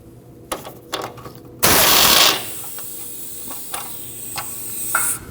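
A ratchet removing the nut from the tie rod of a 2003-2008 Subaru Forester: a loud burst of rapid clicking, then fainter scattered clicks and metallic taps in a quiet workshop.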